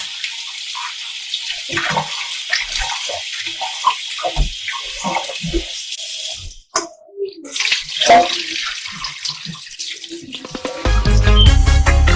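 Beef pieces are rinsed a second time under a running kitchen tap, with a steady splash of water broken by brief pauses and shifting gurgles, and music is faintly audible toward the end.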